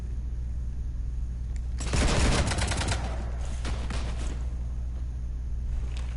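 Gunfire in the Mass Effect 3 video game: a sudden dense burst of rapid shots erupts and rattles on for a few seconds, then trails off into scattered cracks over a low steady background hum.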